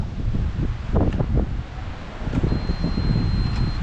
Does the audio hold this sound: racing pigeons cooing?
no